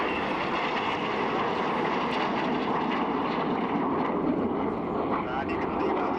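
Red Arrows jets flying a corkscrew manoeuvre at an airshow at RAF Leuchars, a steady broad engine roar throughout with a commentator talking over it.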